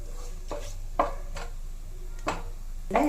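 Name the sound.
frying ingredients in oil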